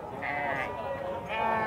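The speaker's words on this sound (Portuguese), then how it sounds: "Tem cabra, tem ovelha, tem carneiro" Sheep bleat repeatedly at a crowded goat and sheep livestock market in Campina Grande, Paraíba, with two drawn-out calls standing out over a steady din of background chatter and animal noise.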